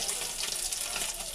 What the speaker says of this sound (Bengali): এবার একটু সর্ষে ফোড়ন দেবো।